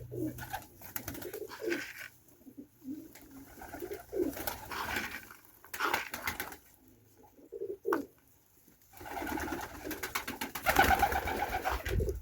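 Pigeons cooing in a summer coop, bursts of close low cooing and rustling separated by quiet gaps, with a louder flurry near the end.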